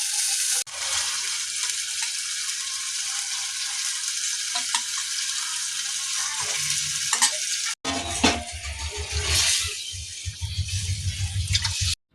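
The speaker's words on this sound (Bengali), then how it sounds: "মাসিমণি তো এখানে মশলা কষাচ্ছে ডিমের জন্য" Spices sauté in a hot pan for egg curry, with a continuous close sizzle and intermittent stirring scrapes. A brief break comes midway, followed by louder, busier frying and stirring.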